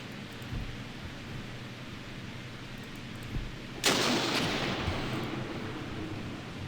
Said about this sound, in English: nice shot with a heat missile there